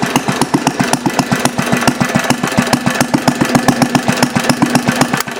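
A small Briggs engine with a glass cylinder head running steadily up close, loud rapid even firing pulses with a rough mechanical rattle and no voices.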